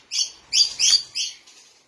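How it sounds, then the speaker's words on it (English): Outdoors in a garden, a bird sings clear, bright chirps, four or five short phrases in quick succession, near and distinct against quiet. "I love that beautiful sound of the birds, if you can hear it."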